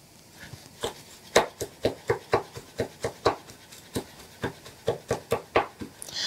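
A kitchen knife coarsely chopping fresh rosemary on a cutting board, about twenty crisp, close taps in a steady, slightly uneven rhythm, with no talk.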